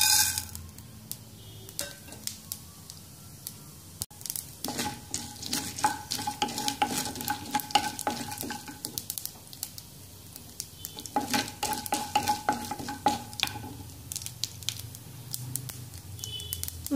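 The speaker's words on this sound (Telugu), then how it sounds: "ఆయిల్ వేడెక్కిన తర్వాత తాళింపు దినుసులు వేసుకోవాలండి." Tempering spices frying in hot oil for rice rava upma, a continuous crackling sizzle with bursts of popping and spoon stirring scrapes against the pan, close and moderately loud, no speech.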